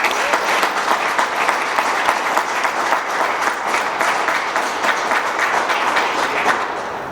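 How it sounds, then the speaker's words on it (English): An audience applauds new school leaders at a New York City event, with dense, even clapping that keeps going close by. "Another round of applause for our new leaders."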